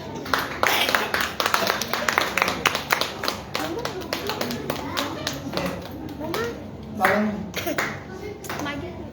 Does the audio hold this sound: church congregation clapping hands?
yes